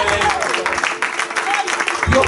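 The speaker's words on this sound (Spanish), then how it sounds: "den un aplauso a Cristo ahora" Applause from a church congregation during a sermon, broad and sustained clapping filling the whole moment, with voices mixed in.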